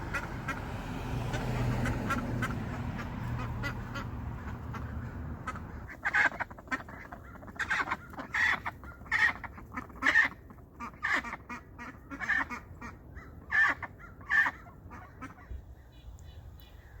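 Ducks and chickens calling in a yard, a run of separate quacks and clucks starting partway through, close by over a low background hum, with no talk.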